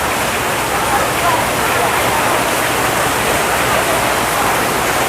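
Dense, heavy rain pours in a loud, unbroken hiss, constant throughout with no pauses.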